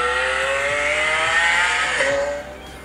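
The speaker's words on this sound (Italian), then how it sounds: "questo è un video di una Lamborghini con un audio a 8D" A Lamborghini accelerating, its engine note sweeping steadily upward in a rising whine that holds loud and close throughout, then drops briefly and climbs again before easing off near the end; no voices over it.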